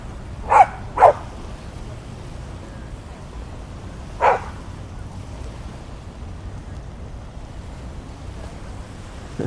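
Dogs bark at a dog park beach: a quick double bark near the start and one more a few seconds later, each short and fairly distinct over a steady wash of surf and wind, with no talking.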